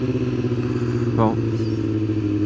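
A motorcycle rides over cracked, bumpy roads, its steady engine drone close and continuous, with a brief rising whine of revving partway through.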